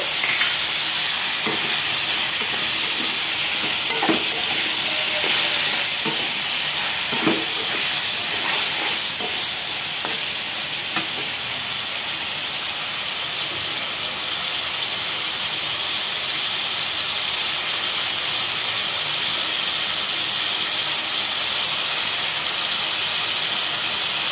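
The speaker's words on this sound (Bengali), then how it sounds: "একটু নাড়াচাড়া করে আমরা এটা ভেজে নিব।" Food sizzles steadily in a hot pan while a spoon stirs it, with a constant frying hiss underneath scattered scraping and clinking taps that grow sparser later on, close by and without any talking.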